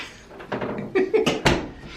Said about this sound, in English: let me make sure this door closed